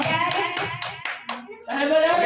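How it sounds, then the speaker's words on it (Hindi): Claps from an audience at a Sunday student performance class, a short burst of uneven hand claps that thins to a few separate claps before a fuller round resumes, with speech mixed in. "वेरी गुड ताली बजाएं।"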